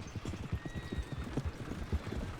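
Horse hooves clip-clop at a steady walking rhythm in the Red Dead Redemption 2 video game, close and fairly loud, with a faint whinny and no talk over it.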